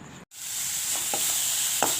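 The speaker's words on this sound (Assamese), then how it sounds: "ঢেকীয়া ভাজিলোঁ ঢেকীয়া ভাজি উলিয়ালোঁ" Fiddlehead fern (dhekia) fries in a little oil in a wok, giving a steady close sizzle with a few soft stirring scrapes. The hiss cuts out briefly near the start.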